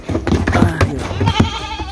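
Goats and sheep bleating on a farm as they ask for feed, several short nasal calls overlapping close by, with a person talking over them.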